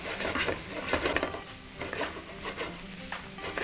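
Spices such as cumin and coriander powder sauté in a hot pan with mushrooms for a Nepali-style mushroom curry, a busy crackling sizzle broken by repeated scraping stirs of a utensil against the pan.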